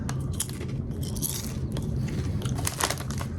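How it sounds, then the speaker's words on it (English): Crunchy protein chips are bitten and chewed close up, a series of crisp crackling crunches repeating throughout without talk. "Let's take a nice bite out of it and see what we think."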